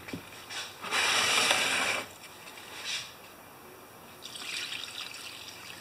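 Fuel pours and trickles through a rag filter in bursts, a steady splashing stream for about a second, then quieter dribbles and a final softer pour, close by.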